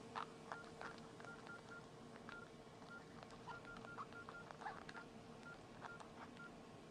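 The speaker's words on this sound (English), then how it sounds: "sometimes the beeps don't keep up with my typing" Keypad beeps from a Nokia E63 phone sound in quick, uneven bursts during typing, faint and near, with short tones scattered over a soft background hiss and no voices.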